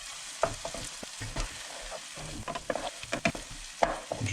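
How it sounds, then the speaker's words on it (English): Spinach being stirred into onions frying over low heat in a pan, with a soft continuous sizzle under repeated scraping and tossing strokes, close and alone. "just break all that spinach up and mix it in with the onions"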